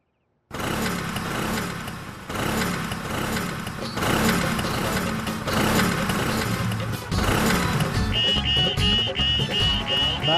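An old antique scooter engine is kicked into life and runs loudly and unevenly up close, sputtering and revving in bursts with a high whine joining near the end.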